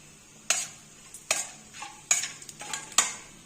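Small sharp pops and crackles from seeds bursting in hot oil, four distinct bursts spaced about a second apart, each fading quickly.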